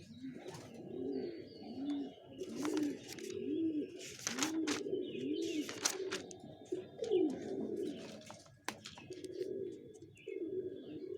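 Racing pigeons cooing nearby, a repeated rhythmic series of soft throaty coos with occasional chirps and small clatters, no talking.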